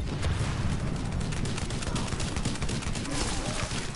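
Sustained automatic gunfire in The Division rattles on without a break, a dense barrage of rapid shots with no clear pauses between them.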